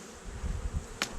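Honey bees buzz in a low, steady drone on top of a hive, close and moderately loud, with one brief sharp click near the end.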